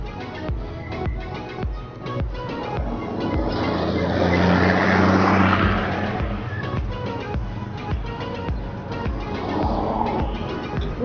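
Vehicles pass on a busy road toward Bicol near the Atimonan Zigzag, heard as a continuous rush of traffic with one nearby vehicle swelling louder mid-way before fading into a steady background hum.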